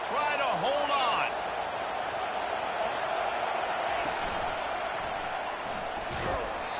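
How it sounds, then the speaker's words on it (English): A loud football stadium crowd roars steadily through a second-down play, a dense continuous wash of noise with a commentator's voice heard over it near the start. "This crowd even louder now on second down as they try to hold on."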